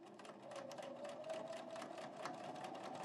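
A sewing machine hums steadily as it stitches closed the gap in a quilt binding seam, a fast, even mechanical whir running without pause and without talk.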